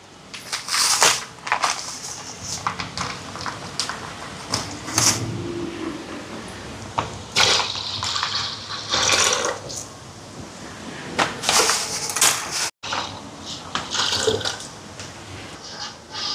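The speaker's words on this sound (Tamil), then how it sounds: "ஒரு 3 பால் பேக்கெட் அதையும் சேர்ப்போம்." Three packets of cow's milk pour into a large cooking pot that already holds coconut milk, for a Sri Lankan almsgiving meal, giving intermittent splashing and liquid rushes mixed with rustling packets and occasional clatter, with no speech.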